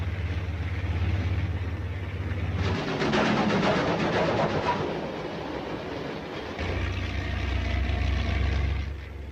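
A steam locomotive rolls along the track in a continuous heavy rumble with rattling, clattering wagons, loud and close, swelling in the middle and easing back toward the end, with no voices.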